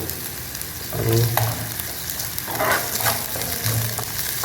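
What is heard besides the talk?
cumin sizzling in hot oil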